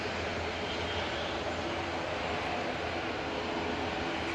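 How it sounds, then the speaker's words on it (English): Airplane engines roar steadily at Manchester Airport, a loud, broad, sustained rumble with no talk. "The dog down there barking at the plane."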